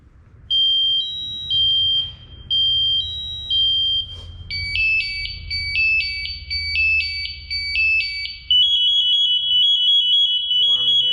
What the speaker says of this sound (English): I'll then let the pack go to a full alarm.